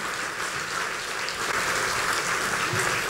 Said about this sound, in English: Let's give you guys a huge round of applause.